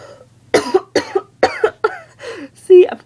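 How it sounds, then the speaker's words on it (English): Several sharp, close coughs in a rapid irregular series, each a short harsh burst, ending with a throaty clearing sound. "See, I'm coughing because of my sadness."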